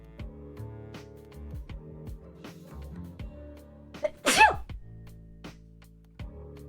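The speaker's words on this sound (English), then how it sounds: "Oh no, I'm gonna sneeze right in front of this bear." A single sharp human sneeze bursts out loud and close over quiet background music, briefly drowning it before the music carries on.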